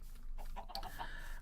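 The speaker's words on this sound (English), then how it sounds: "I also want to show you the chickens, actually, whilst we're here" Chickens in the Minecraft video game clucking in a few short, bright bursts over a steady low hum, close and fairly loud, with no talking.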